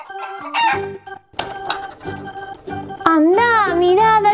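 A hen in a children's farm-themed cartoon clucks in short, rhythmic bursts that build into a longer, rising drawn-out cackle, loud and close, with no speech over it.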